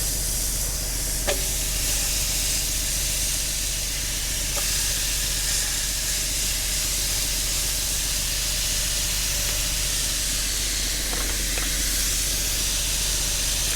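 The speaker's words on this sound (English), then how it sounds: "Okay, they should sizzle." A steady, broad hiss of hamburger patties sizzling in a hot pan continues throughout, with a few faint clicks and knocks.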